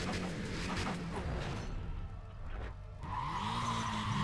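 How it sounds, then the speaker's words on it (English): Audi A3 engine in the racing game NFS Pro Street, a revving engine with tyre squeal and skidding, then a rising gear-pull tone as the car accelerates again, no talk over it. "Yeah, it's the Audi A3 engine and the Golf engine."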